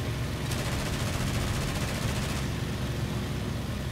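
Aircraft machine guns fire in the IL-2 Great Battles combat flight game, a dense rapid burst running about two seconds over a steady engine drone, with the engine continuing alone afterward.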